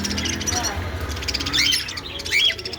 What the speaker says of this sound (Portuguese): Aqui é calopsita, ringneck.